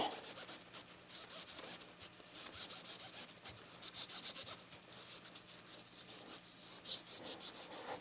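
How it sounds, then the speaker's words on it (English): Rusty bicycle parts are scrubbed by hand in repeated bursts of harsh, close scratching strokes with short pauses between them, and no voices are heard. "we're going to try to clean up some of the rust first. So I'm just going to give them a good scrubbing."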